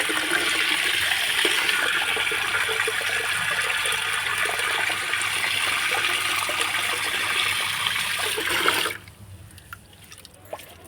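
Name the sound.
spraying liquid fertilizer on plants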